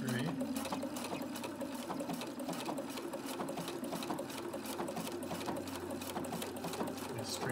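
A Viking Husqvarna Quilt Designer I sewing machine runs continuously and close by, sewing a straight stitch combined with a sideways stitch. Its rapid, even needle chatter continues throughout.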